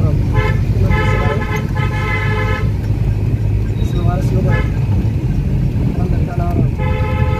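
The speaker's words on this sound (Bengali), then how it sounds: "টানা হরম" Car horns honking in repeated sustained blasts amid busy road traffic at a four-way intersection, with steady engine and street noise underneath and people talking.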